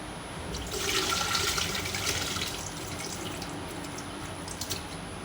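Water sloshes and swirls loudly as corn grits are washed, then settles into quieter splashing and trickling, with a few drips near the end.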